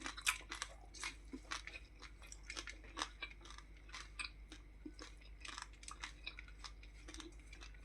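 Crunchy chewing and biting close to the mic, repeated irregular crisp bites over a quiet room, no talking.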